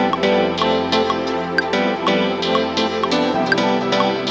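A looped piano pattern at 130 BPM plays against a 124 BPM tech house project in Ableton. The chords repeat with a steady pulse but sound out of time with the track, loud and continuous with no voice over them.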